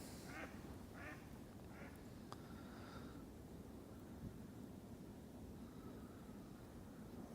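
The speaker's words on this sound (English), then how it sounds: "ducks are flying through." Ducks quack several times early on, a few short calls passing by outdoors over the Norfolk Broads, over steady wind and water noise, fading after the first few seconds.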